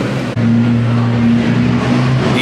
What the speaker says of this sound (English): More Civics coming now.